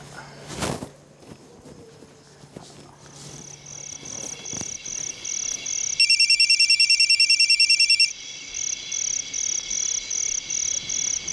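A telephone rings in a quiet home scene, a steady run of rapid pulsing electronic rings that grows louder, with a harsher buzzing ring for about two seconds midway, after a few soft knocks and footsteps.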